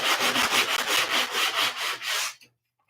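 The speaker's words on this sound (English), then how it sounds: "So this is bad sandpaper." Cheap, low-grade sandpaper rubbed back and forth over wood in about a dozen quick, even strokes, close and loud, then it stops abruptly.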